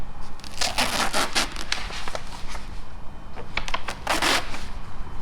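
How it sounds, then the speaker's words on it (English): Backing paper being peeled off tinting film for blacking out a car tail light, a run of crackly, crinkling tearing bursts close by, loud and continuous with short pauses. "I'm going to start peeling my backing paper."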